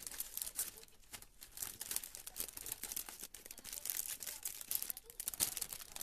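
Clear plastic cellophane wrap is crinkled and smoothed around a handmade soap flower bouquet, giving steady close crackling and rustling in irregular bursts with no speech.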